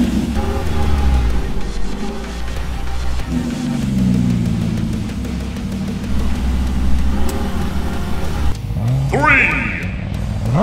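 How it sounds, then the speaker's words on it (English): Cartoon race cars revving in an auto race, loud engine whines and revs blended with music and effects, with voices speaking over them. "Let's have an auto race."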